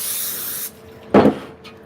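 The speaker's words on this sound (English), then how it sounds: "I'm going to spray a little bit at the bottom so it can hold my parchment paper" Cooking spray hisses in a long, steady burst into a cake pan. After a short pause a louder, close clatter follows, then a faint brief hiss.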